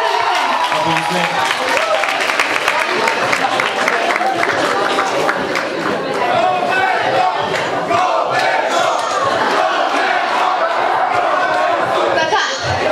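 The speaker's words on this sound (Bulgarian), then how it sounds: "Аплодисменти." A crowd at a Christmas concert, applauding and cheering loudly and continuously for the whole stretch, a dense wash of clapping with shouts and voices mixed through it.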